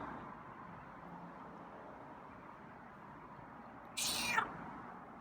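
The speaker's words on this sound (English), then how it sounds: "That was a nice meow." A single short meow from a feral cat being tamed, fairly close and clear, rising briefly over a quiet room hum after several seconds of near silence.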